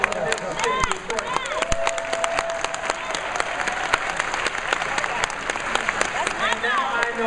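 Vigorous, sustained crowd applause fills the room at a political gathering, steady and fairly loud throughout with chatter and voices mixed in.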